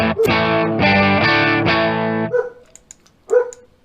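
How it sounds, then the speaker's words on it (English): A distorted, buzzy electric guitar through a POD 2.0 amp modeler plays a few loud chords, followed by two short dog barks in the quieter gap after. "Sorry about that, dog's barking."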